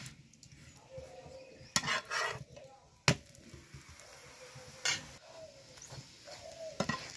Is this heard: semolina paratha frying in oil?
yes